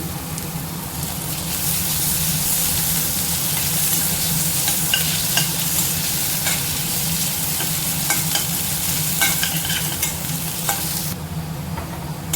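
Onion, ginger and garlic sautéing in a pan, a continuous loud sizzle with intermittent stirring scrapes, steady and close, with no talk.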